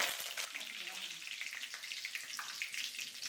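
Curry leaves fry in hot oil with mustard seeds for an amla pickle, giving a dense, steady sizzle with crackly spitting close by.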